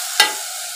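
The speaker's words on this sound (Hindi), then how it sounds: "अब इसको थोड़ा सा भूनेंगे दाल को मसाले के साथ।" Chana and arhar dal with masala dropped into hot oil gives a single sharp sizzling burst that quickly settles into a steady low frying hiss, alone and close by.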